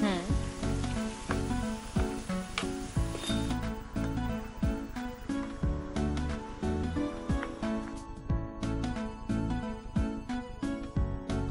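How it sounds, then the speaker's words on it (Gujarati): Kakara pitha fry in hot oil over a medium flame, a continuous crackling sizzle partly covered by loud background music. "એકવાર તેલ ગરમ થઈ જાય ને, પછી એને મીડિયમ ફ્લેમ પર તળવાનું છે."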